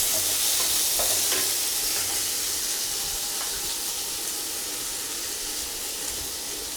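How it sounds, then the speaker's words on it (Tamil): Steady sizzling hiss of finely chopped onions frying in a pan, with occasional stirring scrapes; no voices. "அதை இதோட சேர்த்து நல்லா வணக்கிக்கலாம்"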